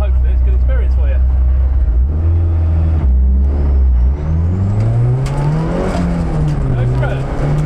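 A car on the Goodwood circuit during a Mission Motorsport track session: a loud, close engine drone that drops between gear changes and then climbs as the revs build, with muffled voices underneath.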